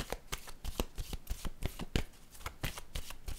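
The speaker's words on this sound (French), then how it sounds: "je vais déposer une autre carte ici" Tarot cards being handled and placed down in a reading, a quick run of crisp papery flicks and snaps, close and fairly loud, with no voices.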